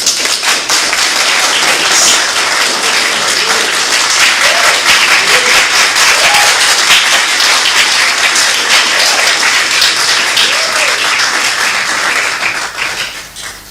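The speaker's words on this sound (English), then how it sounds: "Let's give a round of applause to the incoming First Lady." A crowd at a New Force party rally announcing its 2024 running mate bursts into loud, sustained applause for the incoming First Lady, dense clapping that holds steady before fading at the end.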